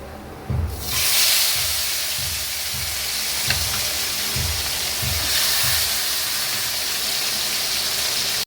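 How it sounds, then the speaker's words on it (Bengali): Bata fish pieces fry in hot oil in a wok, giving a steady loud hiss and sizzle with a rhythmic low thumping beneath it throughout. "এই লাল লাল করে ভেজে নিচ্ছি।"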